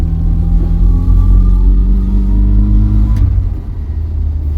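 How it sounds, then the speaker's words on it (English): Vauxhall Viva engine held at full throttle, a loud steady low-pitched roar with rising harmonics that wavers and sags near the end, the engine spluttering and hesitating rather than pulling cleanly. "Yeah, foot to the floor. Yeah, like spluttering, hesitating."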